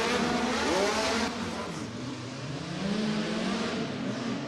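Midget race cars roar around a dirt oval at the USAC Shamrock Classic at Du Quoin, engines revving and droning steadily as they pass, without talking.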